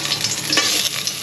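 Steady, loud sizzling and crackling of garlic sautéing in a hot pan over a high flame, continuous hiss with scraping stirs, no voices.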